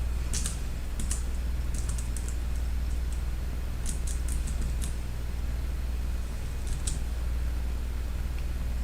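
Steady computer-keyboard typing in short clustered bursts of clicks over a constant low hum, close and moderately loud, with pauses between flurries and no talking.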